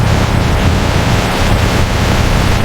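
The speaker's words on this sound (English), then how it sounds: "Look at that spectacular waterfall of hot red tomato puree." Hot red tomato puree pours from a massive tilted cooking vat in a ketchup factory, a loud, steady rushing roar that fills the whole stretch with no pauses and no voices.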